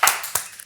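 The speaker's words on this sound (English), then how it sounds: "Clap it up for clips." Three sharp hand claps, loud and close, in a quiet room, each a separate broadband burst with short gaps between.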